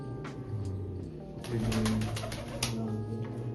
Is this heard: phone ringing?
no